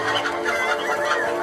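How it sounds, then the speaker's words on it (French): A hen clucking in a zombie video game, a quick run of close, nervous clucks and murmurs lasting under two seconds with no talk over it. "il n'y a rien qui fait plus peur à Abraham Lincoln qu'une poule qui gémit."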